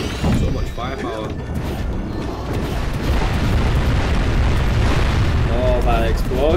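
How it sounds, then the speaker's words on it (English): A deep, roaring explosion rumbles loudly through Jak and Daxter game audio, with people talking excitedly over it. "Oh, that explosion."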